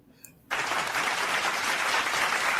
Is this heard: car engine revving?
no